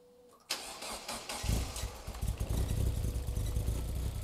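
An RX5 rotary engine fitted with a Subaru TD04 turbo cranks and fires for the first time, starting abruptly and settling into a loud, rough, close idle.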